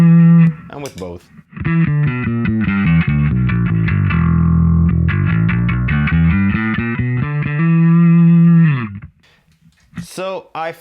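An electric bass guitar runs through a limiter and analog effect pedals, playing sustained, punchy notes with a gritty, compressed tone, then stops, leaving brief silence.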